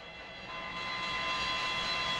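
A FlyJSim 727 jet engine in the X-Plane flight simulator, departing Zurich, produces a steady, broadband roar with a whining tonal edge that gradually swells louder over a couple of seconds, with no talking.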